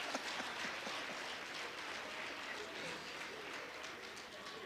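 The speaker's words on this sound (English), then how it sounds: "this resounding applause" Audience applause fills a hall at a skills summit, a steady, dense wash of clapping from a crowd that holds at an even level throughout without pause.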